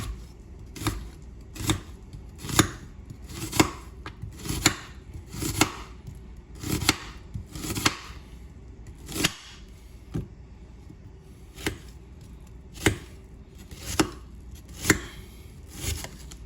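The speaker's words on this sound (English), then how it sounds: "We're gonna julienne these white onions." A knife julienning white onions on a cutting board, crisp close chops in uneven bursts with short pauses between runs of strokes over a quiet room.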